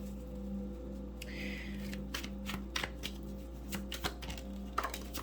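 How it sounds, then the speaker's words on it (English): Tarot cards being shuffled by hand, a run of crisp riffling bursts and soft slaps close up over a steady low hum, with no talking. "So one more shuffle"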